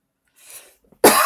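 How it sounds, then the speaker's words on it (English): Harsh, loud coughing after running on trails in 26-degree cold: a faint wheezy breath first, then one sudden hacking burst close to the mic. "You cough and hack."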